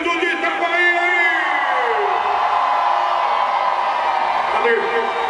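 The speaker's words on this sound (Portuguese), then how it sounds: "A partir de agora, o povo grita." A crowd at a live show featuring a horse dancing to Beyoncé yells and cheers loudly, a dense continuous roar of whoops and bellowing voices filling the space without pause.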